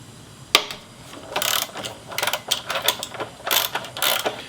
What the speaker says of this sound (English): Now we can unscrew the axle